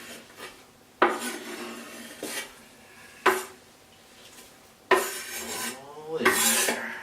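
Tomatoes and onions tumble into a slow cooker for taco soup, giving several separate rasping, scraping bursts as they are scooped and dropped in, with quiet pauses between them and no talking.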